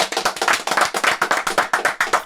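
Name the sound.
applause for Tristan Wirfs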